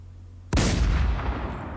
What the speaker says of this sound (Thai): ลองมาดูกับปืน M107 ครับผม ยิงมาเลย